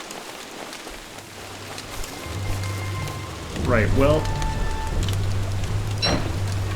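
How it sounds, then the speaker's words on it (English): Steady rain in the video game Don't Starve: Hamlet, a constant moderate hiss of rainfall on the ground running through the whole scene, with a low droning ambience and someone talking over it. "I've never seen it rain on day 2 quite like this."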